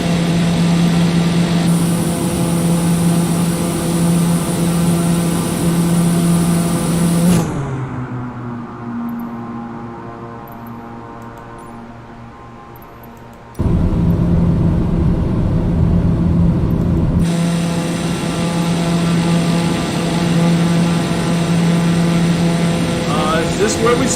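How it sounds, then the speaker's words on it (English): An aircraft engine roars at full power in Microsoft Flight Simulator, a loud, steady drone that dips and fades partway through, then surges back to full strength and holds. "The engine maxed out."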